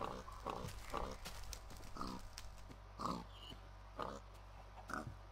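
A pig in the Minecraft video game gives short grunts, several brief oinks spaced about a second apart, fairly faint over a steady low hum, with no talking.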